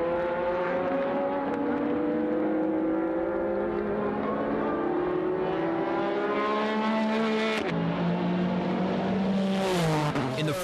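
Nissan GT-R and Toyota Supra race cars lap Fuji Speedway, engines whining and shifting pitch as they climb through the revs, one car passing by with a sharp rise, loud and continuous.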